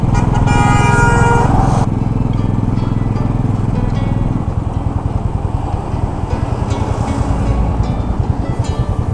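A Honda Hornet 160R motorcycle ridden on a Manali-to-Ladakh road trip, with a loud horn blast in the first two seconds, then a steady, close, pulsing engine drone under wind rush.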